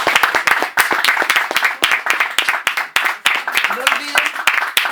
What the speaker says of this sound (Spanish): un aplauso grande para Gonzalo